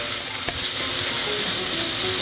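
Onions sizzling steadily in a hot pan over medium heat beside pan-fried chicken breast for ginger pork-style shōgayaki, a continuous close frying hiss with no talk.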